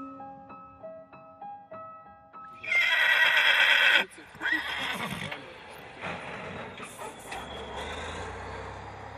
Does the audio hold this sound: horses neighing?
yes